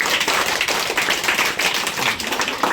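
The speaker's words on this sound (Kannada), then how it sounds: "ಜೋರಾಗಿ ಚಪ್ಪಾಳೆ." Students applaud loudly on a school visit to a silk farm, a dense, steady wash of many hands clapping together throughout with no pauses.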